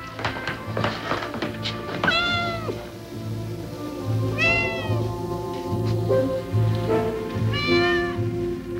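A cat meows several times over a few seconds, clear and fairly close, with light taps and thumps around it in an indoor domestic setting.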